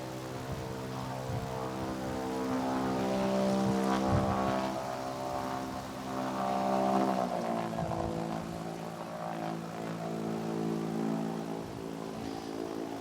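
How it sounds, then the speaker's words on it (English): A jet aircraft engine starting: a continuous roar rises and falls in pitch, with a strong droning hum and some rumble, steady and fairly loud without any talking. "that sound you can hear there is Rich Goodwin starting in the jet pits"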